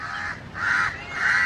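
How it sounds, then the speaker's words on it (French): Crows caw overhead above a bench at Bekal Beach in Kerala, India, giving three loud, drawn-out harsh calls in steady succession close above the listener. "juste au-dessus de moi, il y a des corbeaux qui chantent ou qui crient"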